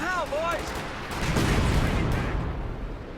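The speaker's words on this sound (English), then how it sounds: "In comes the light artillery barrage." Light artillery barrage in a real-time strategy game match, a dense rumbling wash of shell blasts and booms rolling on for a few seconds over a steady background, after a brief tonal whistle at the start, with a commentator speaking over it.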